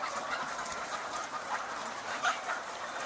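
Hens on a poultry farm with white egg layers make a dense, distant crowd of clucks and chatter, with one louder squawk standing out near the end, and nobody talking.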